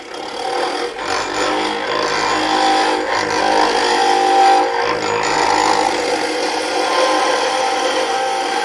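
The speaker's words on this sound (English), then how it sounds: "we're going to sand and polish this anyway" Steady abrasive rasping of sandpaper against a wooden woodturning tool handle spinning on a lathe, a continuous close rubbing texture with slight surges in pressure and no talk.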